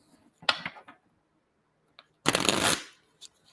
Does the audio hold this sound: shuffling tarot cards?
yes